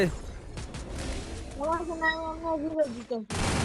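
Bursts of gunfire from a shooting video game crackle at the start and again at the end, while an excited voice talks loudly over the shots.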